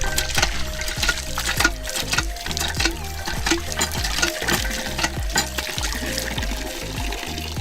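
Water gushes and splashes in rhythmic surges, each squeaky pump stroke pushing a fresh pour into a bucket, close and fairly loud.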